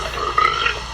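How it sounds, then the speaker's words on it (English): A gross, rasping burp from a character in the 1985 movie Weird Science, a single loud, gurgling belch lasting about a second with no talk over it. "His burp is so gross."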